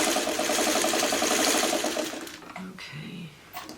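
A sewing machine stitches a seam on a quilt block, a fast rhythmic whirring hum for two seconds before stopping, followed by faint handling sounds.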